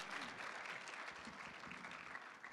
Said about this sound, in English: Round of applause for Shaykh Abdul Nasir.